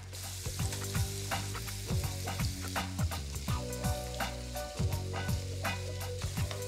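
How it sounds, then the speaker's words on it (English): Onions cooking with sugar in a pan, a steady close sizzle running throughout with repeated scraping and stirring strokes from a utensil against the pan, no voices. "We're going to cook the onions with the sugar until we get a nice, translucent, clear color to the onions."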